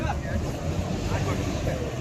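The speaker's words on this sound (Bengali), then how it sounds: "এই যে যাচ্ছে ফেরি হচ্ছে অপোজিটে যাচ্ছে" Ferry crossing the Titas River, a low steady engine rumble mixed with wind buffeting the microphone and water noise, continuous and moderately loud from the riverbank.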